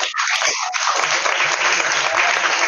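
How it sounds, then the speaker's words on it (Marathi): A loud, dense burst of applause from an audience clapping for girls, sustained and close for a few seconds without pause. "आज सगळ्यांनी ना फक्त मुलींसाठी जोरात टाळ्या वाजवायच्यात"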